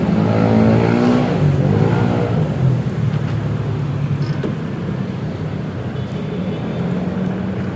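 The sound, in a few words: Honda ADV 160 scooter engine starting and idling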